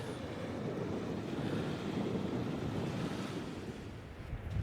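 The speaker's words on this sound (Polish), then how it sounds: "tutaj są wiatry od Atlantyku" Steady roar of Atlantic ocean surf on a Cornwall beach mixed with gusting wind buffeting the microphone, continuous and fairly loud, with no voices.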